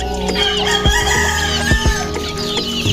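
A chicken on a backyard bird farm clucks and crows repeatedly, near and loud, in short bursts without any talk.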